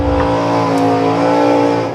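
A 1974 Olds Omega drag racing car holds a loud, steady revving engine drone at a drag strip, close and continuous for a couple of seconds.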